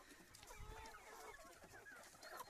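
Several chickens cluck and murmur close by, their soft overlapping calls continuing steadily with a few higher squawks.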